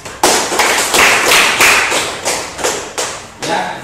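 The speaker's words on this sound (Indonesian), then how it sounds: "kita kasih aplaus" Students in an Islamic religious education classroom give a round of applause, heard as a series of loud, close clap-like bursts in an uneven rhythm, about ten strikes over a few seconds.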